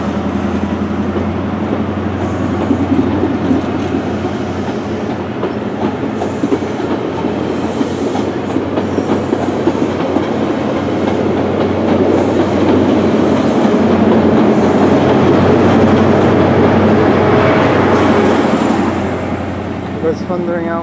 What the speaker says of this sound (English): Pulling out now is the 1841 GWR service to Penzance from London Paddington.